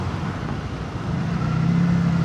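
Steady road traffic rumble with passing vehicle engines around a rider on a Yamaha Nmax V3 scooter in Tagaytay, loud and continuous, swelling slightly toward the end.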